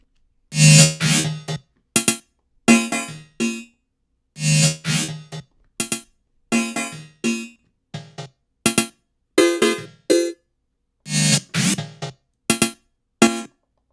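Chopped, pitched metallic sample slices from a music track play as a stuttering sequence of short, punchy bursts separated by silences, loud and close with no talking.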